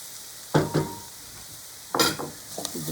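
Minced garlic and onions fry in a pan, with two bursts of stirring and scraping over a quiet, steady sizzle.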